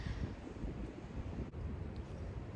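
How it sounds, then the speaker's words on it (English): Wind buffets the microphone on a cold day beside trout water, a steady low roaring rush that fills the whole stretch with only a brief dip midway, loud and close with no other sounds. "I'm only gonna be able to cast this when the wind stops for a second."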